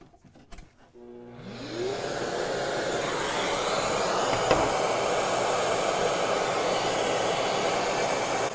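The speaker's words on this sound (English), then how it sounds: "I'm going to use the vacuum." After a few clicks and knocks, a shop vacuum motor whirs up and settles into a loud, steady roar that runs on without pause, in a woodworking setting with a DeWalt track saw on a Festool track.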